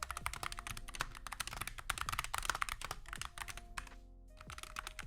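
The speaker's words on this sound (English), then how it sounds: "maybe small sound check. I don't know if you guys really care about it because it's a gaming keyboard" Rapid typing on a quiet gaming keyboard, a steady stream of light, close clicks and taps with a brief pause near the end before the keys resume.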